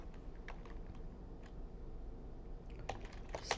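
Quiet, close keystrokes on a computer keyboard come in scattered taps, with a brief cluster of quicker clicks near the end, over a soft room hum.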